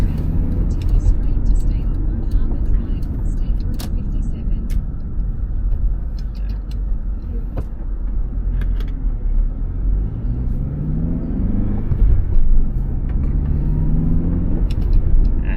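Car idling and creeping in city traffic near a truck at a red light, steady low engine rumble and road noise throughout with occasional clicks and a passing vehicle, someone speaking over it.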